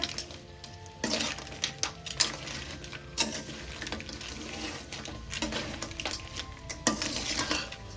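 Sautéed crab pieces go back into a pan for a Tamil crab masala gravy, giving soft clatter of a spoon on metal, stirring scrapes and a light sizzle, close but fairly quiet with irregular bursts.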